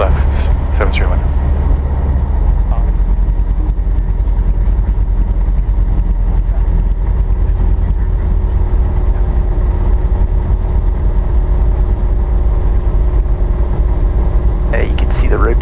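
A SportStar light aircraft engine drones loudly and constantly at night takeoff on Chino runway 26 left, a steady close cockpit roar with a faint tonal hum and brief radio voices at the start and end.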